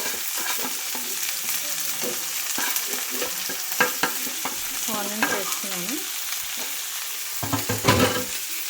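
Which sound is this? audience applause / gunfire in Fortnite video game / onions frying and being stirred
onions frying and being stirred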